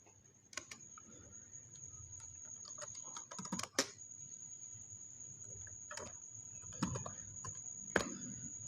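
Computer keyboard typing during data entry into an Excel spreadsheet: scattered close key clicks and short bursts of strokes over a steady high electronic whine and low room hum, no talk.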